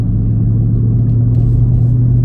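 A car cruises in sixth gear at low RPM, giving a steady, loud, low engine hum and road rumble that holds constant throughout.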